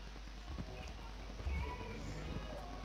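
Horse hooves clip-clop softly in a Minecraft game, a few faint irregular steps under a low steady background while a player talks over them.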